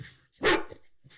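An Akita gives one short, loud bark close by, with a little faint noise before and after.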